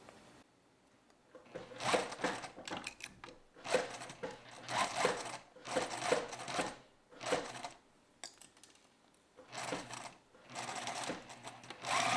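A sewing machine stitches a fabric bow tie, running in repeated rapid bursts of rhythmic mechanical chatter separated by brief pauses, close and clear with no voices.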